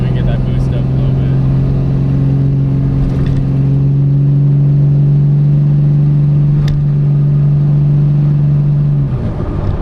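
A Cummins diesel truck engine drones steadily at about 65 mph, building turbo boost with a strong, constant low hum that holds nearly unchanged before easing near the end, while people talk over it.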